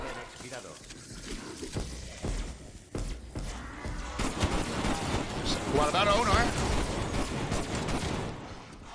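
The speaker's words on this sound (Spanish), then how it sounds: "Cuidado con los disparos." Bursts of gunfire from the Call of Duty Cold War Zombies video game, set in the Die Maschine map, crackle and thump beneath overlapping voices of players talking.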